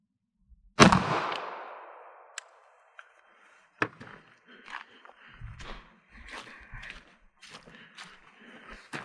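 A 9mm Luger handgun fires a single 147 grain round, one sharp loud report that rings off, followed by quieter shuffling and handling noises.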